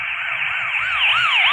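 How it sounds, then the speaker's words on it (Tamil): A police car siren in a driving video game wails steadily and loudly, its pitch sweeping up and down in quick, repeated cycles with no voices over it. "போலீஸ் வண்டி சும்மா கன்று மாதிரி பறக்குது"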